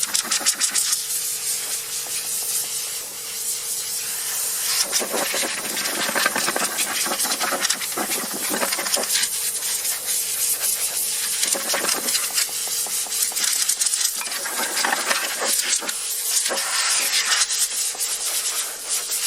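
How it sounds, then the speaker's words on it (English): Compressed air blasts in hissing bursts against a whitewall tire on a 1977 Chevy Caprice, the loud rushing jets starting and stopping repeatedly over a low running engine-like drone. "now I blow some air to clean the tire"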